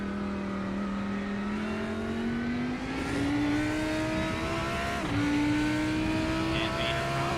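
Lamborghini Huracan GT3 race car in iRacing at Daytona, its engine droning steadily and climbing in pitch through the gears, with a brief dip and shift around the middle, loud and continuous throughout.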